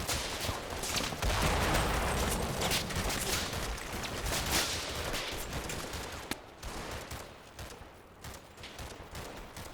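Dense gunfire from defenders in the Combat Mission wargame crackles continuously, with rapid overlapping shots and machine-gun bursts fading slightly toward the end, with no talking.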